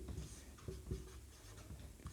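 Pen on paper writing out a definition of like fractions, faint close scratching strokes in short irregular bursts against a quiet room.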